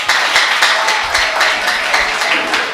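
An audience claps in a room during a mentorship talk event, a warm burst of many hands with irregular, overlapping claps that hold steady throughout.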